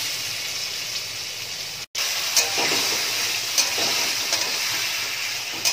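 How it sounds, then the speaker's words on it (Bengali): A pan of elephant foot yam curry with coconut simmers and hisses steadily, with a brief silent break and occasional soft clinks from stirring throughout. "এবার ভালো করে একটু নাড়াচাড়া করে নিচ্ছি দেখো।"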